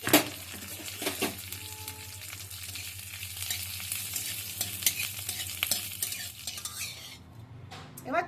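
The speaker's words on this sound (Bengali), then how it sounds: "এবার চাটনিটার জন্য একটা তড়কা বানাবো। কড়াই গরম হতে বসিয়ে দিয়েছি, অল্প একটু সরষের তেল দিয়ে দিচ্ছি" Mustard oil sizzles in a hot wok as dried chilli, curry leaves, white sesame and mustard seeds fry for a tadka, a steady crackling hiss with spoon scrapes and clinks against the pan, close up.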